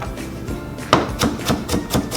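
A knife chops celery stalks and peeled carrots on a board, six or seven crisp, evenly spaced close thuds in quick succession.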